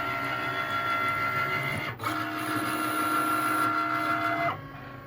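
A Cricut cutting machine runs with a steady, close mechanical whir and tonal motor hum, briefly pausing mid-way before resuming and then dropping lower near the end.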